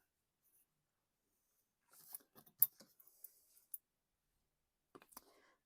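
Scissors snip paper for a junk journal in a quiet room, a handful of faint, sparse clicks and cuts with silence between them.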